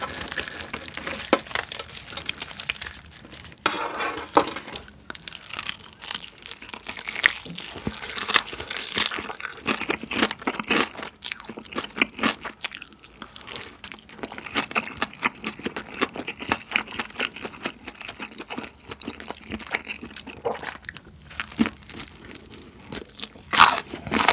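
Crispy Korean BBQ-style fried whole chicken is bitten and chewed up close, with dense crackling crunches and crinkly batter snapping in a steady, loud run of eating sounds throughout.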